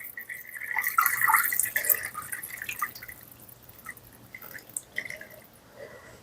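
Water poured over turkey scraps in a slow cooker for homemade broth; a splashing, trickling stream loudest early on, then thinning to lighter dribbles and drips close by, no talking.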